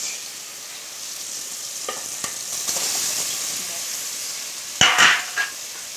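Rohu fish pieces frying in a pan, a steady sizzle with occasional stirring scrapes and a louder burst of spatter near the end, no voices.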